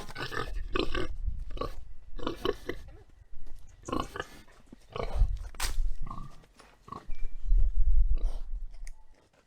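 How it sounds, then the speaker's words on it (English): Pigs on a homestead grunt and oink while chomping noisily on collard green stems, with repeated bursts of crunching and snuffling close by, alternating with brief quiet gaps. "Those pigs were happy to get some stems from collard greens"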